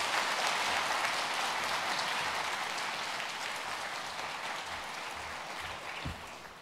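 A church congregation at a Sunday worship service applauds for a visiting pastor from the United States, a soft, distant wash of clapping that gradually fades.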